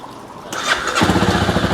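A starter whirs briefly, then a cold motorcycle engine fires on the first try and runs with a steady, loud, close chugging idle.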